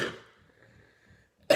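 A person with a lingering cough lets out short, rough coughs, one trailing off at the start and another abrupt burst at the end, with near silence between them.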